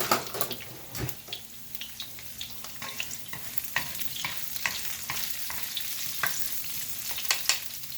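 Long beans stir-fry with ginger, garlic and basil in hot vegetable oil, a soft continuous sizzle broken by repeated clicks and scrapes of stirring, quiet and close with no talking.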